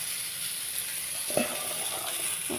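Vegetables such as cabbage stir-fried in a hot pan: a steady, bright sizzle with a couple of soft scraping stirs, close and without voices.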